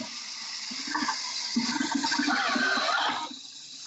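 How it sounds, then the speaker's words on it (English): Warm water runs from a tap as hands are wet for handwashing, a rushing, splashing flow that swells and then eases off, with no talking. "So you want to wet your hands a little bit."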